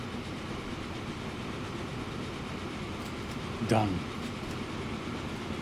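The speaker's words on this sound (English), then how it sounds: "our passenger train has come in" A passenger train arrives in the video game Transport Fever 2, heard as a steady rolling rumble with a brief rising squeal or whistle partway through, while a person speaks briefly.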